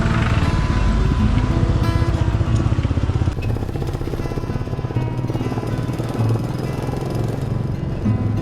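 A loud motorcycle engine drones steadily up close on an empty mountain road toward Dhorpatan, Nepal, its rumbling, buzzing tone holding throughout with slight shifts as it rides on.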